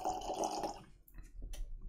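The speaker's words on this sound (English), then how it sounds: "let's pour something" Tomatin 18-year-old sherry-cask single malt whisky being poured into a glass, a close, trickling liquid pour lasting about a second that then gives way to a few faint drips and clinks.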